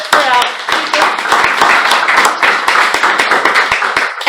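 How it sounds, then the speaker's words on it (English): Applause from an audience at a Toastmasters club meeting, a steady dense patter of many hands clapping, loud and close, with voices mixed in. "give a round of applause for our speakers"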